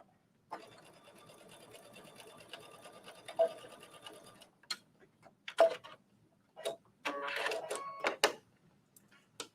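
A sewing machine hems a trench coat, running in a quiet, light ticking stretch and then in short stop-start bursts with clicks and fabric handling, all faint and close.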